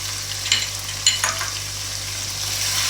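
Tomatoes, green chillies and seasonings fry together for Shimla gosht, a soft continuous sizzle with a few stirring scrapes of a spoon against the pot over a low steady hum.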